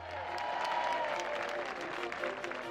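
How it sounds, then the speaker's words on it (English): A racecourse crowd in the enclosures applauds the racehorse Desert Orchid as he gallops past mid-race, a broad wash of clapping and crowd noise with a commentator's voice running over it. "Desert Orchid races past the enclosures, is getting a round of applause"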